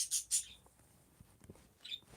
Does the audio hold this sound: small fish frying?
no